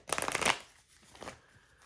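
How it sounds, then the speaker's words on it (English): A deck of tarot cards being shuffled nearby: a quick, crisp riffle of flapping cards lasting about half a second, followed by fainter rustling. "Let me shuffle this deck."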